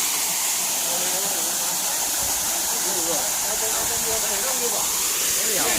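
A waterfall at a hilltop Buddhist meditation site in Kalasin, Thailand, gives a loud, unbroken rushing hiss that fills the whole stretch, close by and steady.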